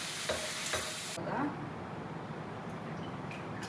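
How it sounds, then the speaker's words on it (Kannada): Chicken frying in oil over a medium flame makes a soft sizzle with a few stirring scrapes, the louder frying sound cutting off early and leaving a faint hiss. "ಫ್ರೈ ಆದರೆ 2 ಸೈಡ್ ಒಂದು ಮೀಡಿಯಮ್ ಫ್ಲೇಮಲ್ಲಿ ಫ್ರೈ ಆದರೆ ಸಾಕು"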